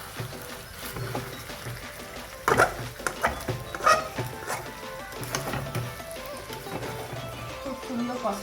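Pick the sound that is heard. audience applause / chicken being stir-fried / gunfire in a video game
chicken being stir-fried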